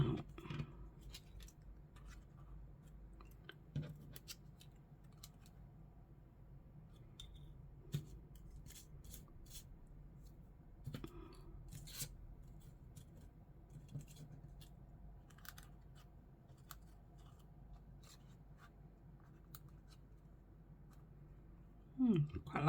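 Scissors cut out small paper pieces at a craft table, making quiet, scattered snips and rustling paper rubs spread through a hushed room, with soft handling noises between cuts.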